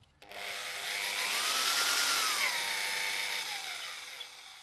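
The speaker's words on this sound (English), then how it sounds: "Drill away." A power drill bores steadily into old timber to take a core for tree-ring dating, a loud continuous whine that holds for about four seconds, its pitch sagging slightly under load, with no talk.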